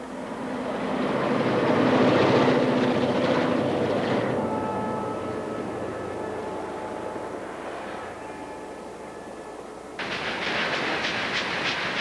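A passenger train runs across open prairie, its broad rumble loud and steady before easing off, with a harsher rattling rise near the end; no voices.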